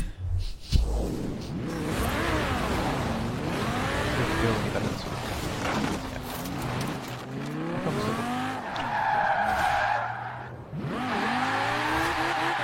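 A car's tyres slipping and squealing as it drives on snow, with engine revving rising and falling in repeated swells close by, plus a short thump near the start.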